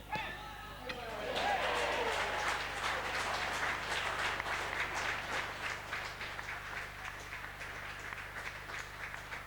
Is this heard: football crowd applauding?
yes